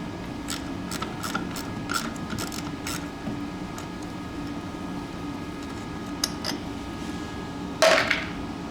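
A ratchet wrench works loose paddle bolts on a Toro snowblower, with quick clusters of close clicking, a quieter stretch and a sharper metallic clack near the end over low background noise.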